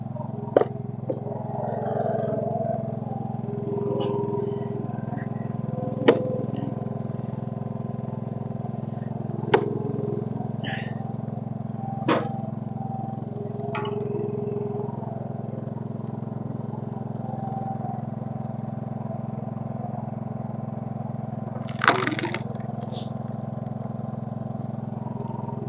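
A Case 224 garden tractor idles with a steady low drone, running a hydraulic wood splitter, punctuated by occasional sharp clanks and knocks of machinery over the running motor.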